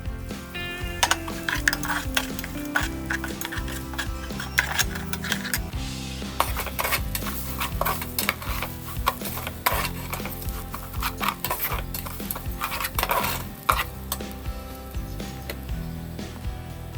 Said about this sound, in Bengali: সঙ্গে গোটা দারচিনি, এলাচের ফল ও চালগুলো দিয়ে হালকা হালকা ভাজা ভাজা করে নেব।